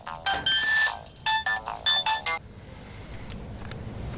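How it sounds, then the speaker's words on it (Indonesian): An electronic phone ringtone plays a few bright melodic bursts, then stops, leaving quiet room noise. "Ada yang telepon. Angkat saja sayang."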